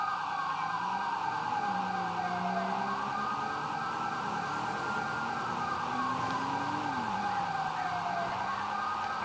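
Wailing emergency vehicle sirens in the video game GTA5 during police patrol, several overlapping sirens sweeping up and down in steady cycles, continuous and moderately loud with no voices.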